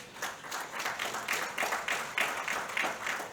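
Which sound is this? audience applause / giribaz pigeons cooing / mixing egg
audience applause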